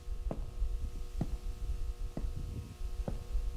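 Slow, steady heartbeat thuds repeat roughly once a second over a low continuous hum, muffled and close, with no voices.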